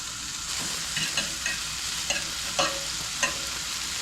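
Bacon crisping in a pan for a breakfast burrito gives a steady close-up sizzle with a bright hiss, broken by scattered pops and spits through the clip.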